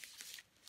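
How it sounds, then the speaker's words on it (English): Scissors snip away excess fabric from a fused quilt background, a few quiet, crisp cuts at close range with a short pause between them. "I'm just going to take some scissors."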